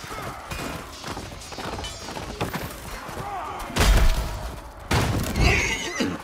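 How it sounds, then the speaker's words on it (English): A horse in a video game neighs and whinnies loudly over a busy battle backdrop, with heavy thuds and crashes as the action continues. "Grant, how do I dismount a horse?"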